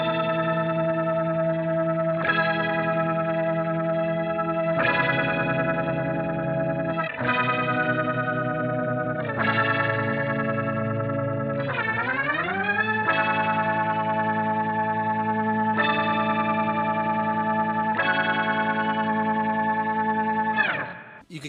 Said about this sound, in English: One of my favorites that I really enjoyed was this kind of like organ sound thing.